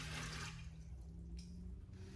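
Filtered water, 350 ml, poured into a Kmart Anko bread maker pan makes a steady splashing, running-water hiss that fills the short clip at low level, with no talking.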